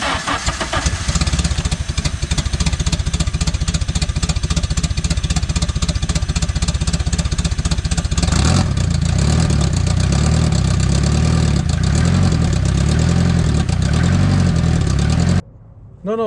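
A turbocharged K24 car engine runs steadily and loudly close by, its rough idle droning throughout, roughening and deepening about halfway before cutting off near the end; a voice is faintly present.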